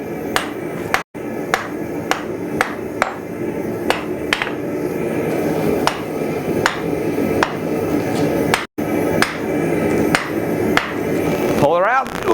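Hot steel being upset by hammer blows during blacksmith forging, heard as a run of loud, sharp metallic strikes at an uneven rhythm, close and ringing, with brief pauses between groups of hits.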